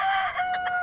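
A rooster crows once, a loud, close call with a strained, harmonic tone that holds and wavers for under a second, heard alone without voices.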